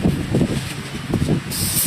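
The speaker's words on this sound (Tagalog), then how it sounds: "Spray natin ito ng sabon." Soap sprayed onto a Carrier Optima window air conditioner during cleaning: several short bursts of spray hiss, close and fairly loud, with a steadier hiss near the end.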